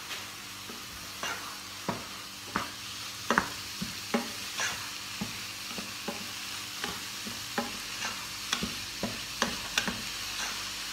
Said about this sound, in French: Alors je vais laisser tout ça cuire tout doucement, tranquillement.